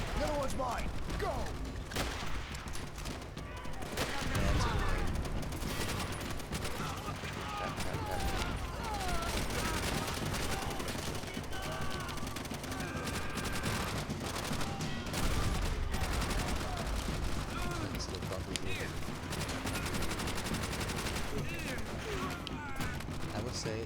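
Battle in Call of Duty World at War, with machine gun bursts and scattered rifle fire plus mechanical clatter running throughout, as someone talks over the dense, sustained gunfire.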